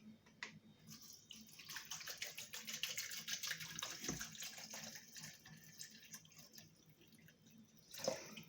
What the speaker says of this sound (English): I'm going to add enough water to cover my ginger.